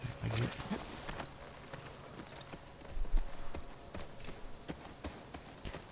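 Horse hooves clip-clopping steadily in a video game, a regular rhythm of sharp close hoofbeats over grassy ground, alone without talk.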